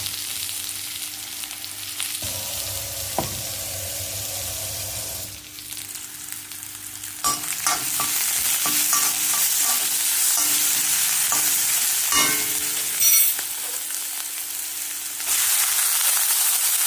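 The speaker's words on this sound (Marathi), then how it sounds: "आता ह्या सगळ्या भाज्या स्वच्छ धुवून घेणार आणि तेलात घालणार." Washed vegetables hit hot oil and fry with a loud, continuous hiss that shifts and swells, punctuated by utensil clanks and stirring scrapes nearby, with no voices.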